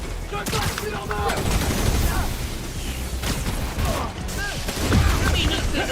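Dense, rapid gunfire from the Spider-Man Miles Morales video game rattles almost continuously with loud bursts and mechanical clatter, while a player talks over the shooting.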